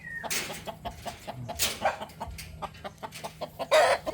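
A hen clucks in short, repeated bursts at close range, with other fowl calling faintly in the background.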